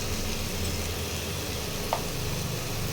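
Onion paste with garlic paste frying in a pan, a steady close sizzle that holds evenly throughout, with one brief scrape or stir near the end and no voices.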